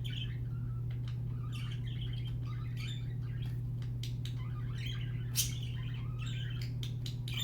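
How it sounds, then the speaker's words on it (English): Pet birds chirp and tweet indoors in frequent short bursts throughout, several calls overlapping at moderate distance over a steady low electrical hum. "My birds are making it really hard to like focus."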